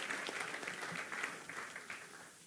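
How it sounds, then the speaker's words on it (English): An audience applauds panelists at an industry conference session, a faint but continuous patter of many hands clapping that gradually tapers off. "Ladies and gentlemen, let's give them a round of applause."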